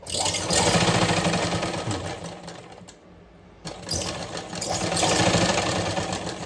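A sewing machine in a tailoring class runs steadily, stitching over a previous line of stitches, with a brief pause midway before resuming at the same close, loud pace.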